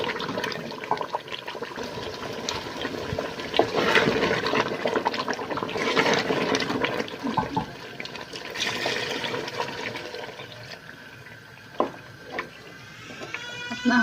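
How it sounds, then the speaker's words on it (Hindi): Water is poured into aloo matar curry in a pan, a steady splashing gush that rises and falls over several seconds, with a few sharp clinks near the end. "अब इसके अंदर पानी ऐड करेंगे।"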